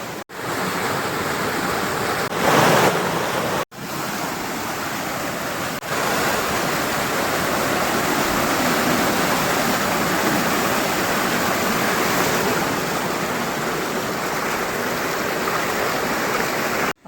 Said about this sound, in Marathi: पाणी भरपूर आहे मोड्याला